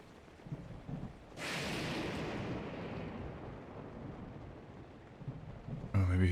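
Heavy rain pours down in Breath of the Wild, a broad steady hiss that surges in suddenly and holds loud, with a low rumble underneath, ending on a sharper burst.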